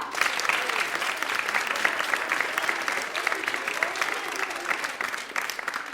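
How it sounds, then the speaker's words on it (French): Parents and guests applaud young schoolchildren after a sung stage play, producing a steady, dense patter of clapping with murmured voices underneath that dips slightly near the end. "vous pouvez applaudir Eléa"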